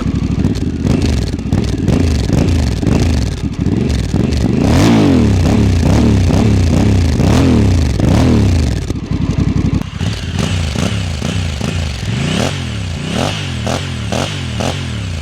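Honda Africa Twin DCT motorcycle engine revving up and down repeatedly, a loud close throaty roar rising and falling in quick sweeps with no talking.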